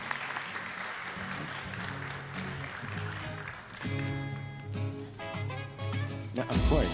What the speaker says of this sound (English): Let's give them a round of applause for a productive discussion.